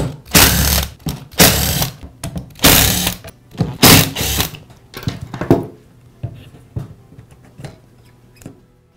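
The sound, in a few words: unscrewing five screws from DeWALT angle grinder side cover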